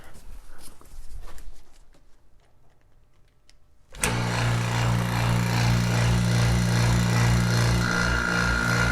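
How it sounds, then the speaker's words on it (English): A vacuum pump for vacuum infusion of epoxy switches on abruptly after a quiet stretch, then runs with a loud, steady motor drone and hum that continues to the end. "So we gotta get vacuum on first."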